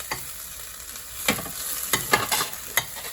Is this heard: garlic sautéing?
yes